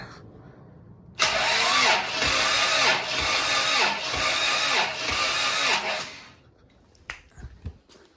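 A Toyota 22RTE engine cranks on the starter for about five seconds during a cylinder compression test, a loud rhythmic whirring chug with even pulses, then stops, leaving faint clicks and handling noise.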